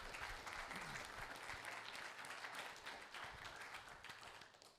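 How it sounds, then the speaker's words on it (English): An audience at a real estate investment expert panel gives the panel a steady round of applause, with dense sustained clapping that fades slightly toward the end. "Can we get a big round of applause for these guys?"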